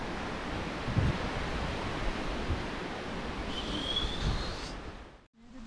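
A waterfall at Cachoeira do Canyon near Pirenópolis, heard from a swaying footbridge above, a steady broad roar of falling water that stays even throughout and cuts out briefly near the end.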